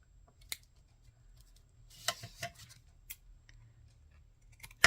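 Scissors snipping excess paper from a handmade craft tag, a few quiet separate cuts with a brief cluster in the middle and one at the end, close but faint, with no speech.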